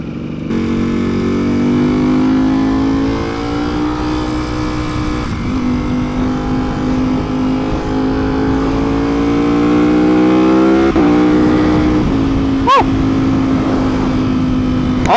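A Ducati V4 Superleggera motorcycle at speed during a top speed test, its engine a loud sustained high-pitched roar climbing steadily through the gears with shifts, heavy wind rush underneath, close-up on the bike.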